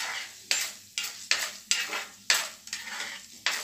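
Urad dal roasting in a pan, stirred in repeated scraping strokes about every half second over a soft steady sizzle, close and fairly quiet with no voices.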